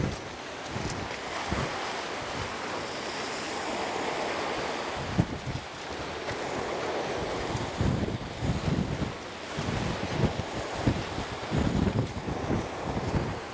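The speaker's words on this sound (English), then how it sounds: "Can you guys hear the waves?" Ocean waves washing onto a beach on Somuuido Island, South Korea, a steady surf wash with rolling surges, mixed with wind buffeting the microphone, heard up close without speech.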